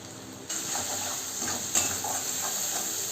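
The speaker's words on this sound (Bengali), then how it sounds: "আমি আদা রসুন আর পেঁয়াজটা ভালো করে তেলের উপরে নিয়ে কষিয়ে নেব" Ginger, garlic and onion sautéing in oil, a soft continuous sizzle with faint stirring scrapes under a steady high hiss from the pan, close and fairly quiet.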